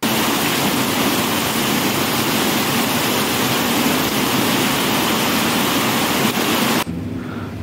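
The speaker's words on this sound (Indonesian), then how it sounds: "Setelah Terminal Baru Solok diguyur hujan deras dalam waktu sekejap" Heavy downpour drums steadily at an open bus terminal in Solok, a loud, dense hiss that fills the whole stretch before cutting off abruptly near the end.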